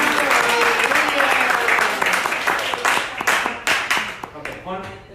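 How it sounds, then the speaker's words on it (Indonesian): A fellowship gathering in Brisbane claps for themselves, a moderately loud burst of applause that thins into distinct individual claps and scattered hand slaps as it tapers off, with brief voices mixed in. "Tepuk tangan buat diri sendiri."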